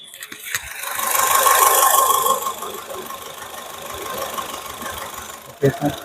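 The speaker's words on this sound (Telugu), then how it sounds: "ఓకే సార్, ఇంజిన్ చాలా స్మూత్గా ఉంది." A petrol engine of a 2012 Honda City V CVT automatic idles steadily nearby, revving briefly at the start before settling into an even hum.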